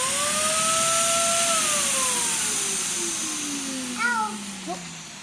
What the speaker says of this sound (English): So let's turn it on and see if we get a clogging noise.